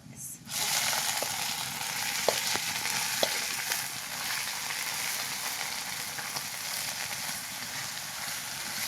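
Leafy greens added to hot oil with browned garlic sizzle loudly and steadily in a wok, a continuous close frying hiss after a brief quiet start, with a few faint clicks of stirring.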